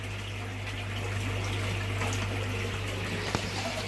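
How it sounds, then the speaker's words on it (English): Steady rush of water pouring during a saltwater aquarium water change, continuous and close with a constant low hum underneath. "I'm going to do a water change."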